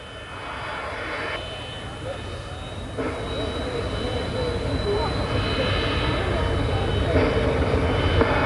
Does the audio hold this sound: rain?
no